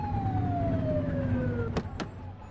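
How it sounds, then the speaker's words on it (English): Police siren wailing in the video game The Precinct on PS5, a steady falling tone over engine rumble, cut by two brief bursts near the end. "Get on their tail and flip the siren."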